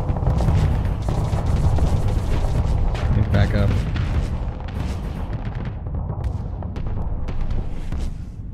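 Enemy ship weapons firing in the space combat game Starsector, a steady stream of booming, crashing shots and impacts that carries on for the whole stretch, heavy and dense, with talk running over the battle.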